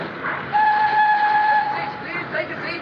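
A train at a railway station gives a long, steady whistle over a rumbling background, with station murmur and possible talk around it.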